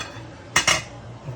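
A lid goes onto a pot of chicken tinola, landing in two quick, close metallic clanks that ring briefly before fading into a quiet kitchen.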